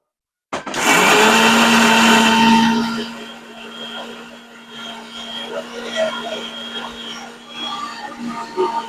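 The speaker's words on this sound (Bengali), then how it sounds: "আমি এখন মশলা মিক্সিতে দিয়ে মিক্স করছি।" A loud electric mixer grinder whirs up hard while blending spices in a home kitchen, then settles into a lower steady hum with a faint rattle as the jar spins, with no talk over it.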